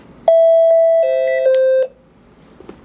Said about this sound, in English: See how it's ringing at the central.